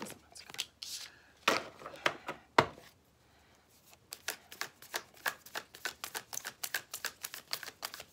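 Deck of playing cards being shuffled by hand: a few loud riffling bursts, a short pause, then a steady run of quick, light snapping flicks, close and fairly quiet.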